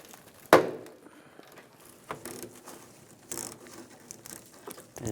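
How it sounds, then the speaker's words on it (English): A socket ratchet with a T25 socket clicks as it backs a screw out of the inner fender well of a 2006-2009 Mercedes-Benz E350, opening with a sharp clack followed by scattered light ratcheting clicks, close and without talk. "Take that screw out."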